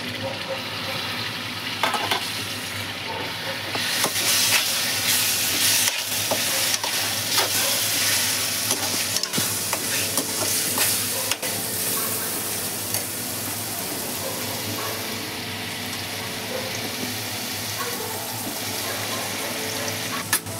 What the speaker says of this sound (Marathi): टोमॅटो टाकते.